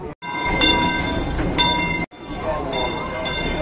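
Disneyland Railroad train at the station, with a steady rumbling idle and bright bell-like clangs ringing out at intervals amid open-air park ambience, fairly loud and close.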